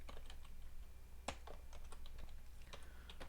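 Commands typed on a computer keyboard in a Bash terminal, with a quick irregular run of close, crisp key clicks and one louder keystroke partway through, with no talk.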